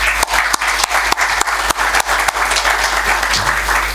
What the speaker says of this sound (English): let's give the last applause to our panelists